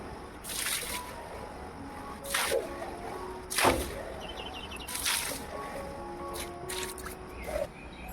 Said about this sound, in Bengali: এখন গেটের সামনে জল দিয়ে দিচ্ছি